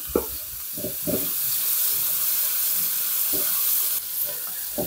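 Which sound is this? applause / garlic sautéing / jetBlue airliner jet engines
garlic sautéing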